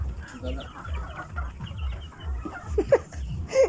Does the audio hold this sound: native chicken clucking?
yes